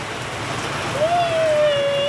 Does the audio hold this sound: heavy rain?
yes